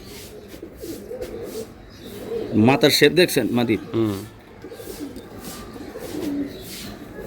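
Giribaz pigeons coo softly in the background, a low repeated burbling heard under steady nearby conversation between men.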